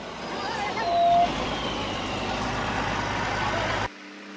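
A long-distance logging truck climbs a dangerously steep road, its engine rumbling loud and steady with a short surge in the middle before the sound cuts off abruptly.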